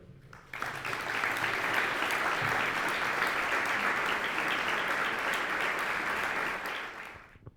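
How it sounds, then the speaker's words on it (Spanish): Applause from the audience at a municipal event for the parish's eighth centenary, with the Order of Saint John, rising quickly after a brief quiet start, sustained and even, then tapering off near the close. "les pido un aplauso"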